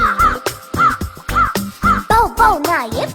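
A crow caws repeatedly in a steady rhythm, loud and close, with harsh calls coming about every half second.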